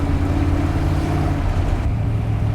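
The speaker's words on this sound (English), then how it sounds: "the sound that you get from the side exit is just next level" Engine of a 1965 Shelby GT350 roaring through its side exit exhaust, a loud, continuous low rumble heard from close by while driving, with a slight shift in tone partway through.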